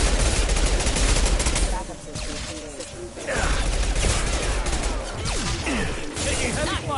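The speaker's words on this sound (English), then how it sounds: "Taking heavy fire!" Gunfire in the video game Mass Effect Legendary Edition sounds as dense, rapid automatic bursts that keep coming through nearly the whole stretch, loud and close, broken by one brief lull, with voices mixed in.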